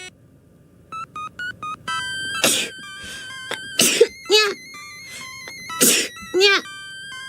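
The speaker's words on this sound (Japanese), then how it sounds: "くしゃみが出ました。" Several sneezes, loud and close, in quick bursts with drawn-out vocal endings, after a short series of soft beeping tones.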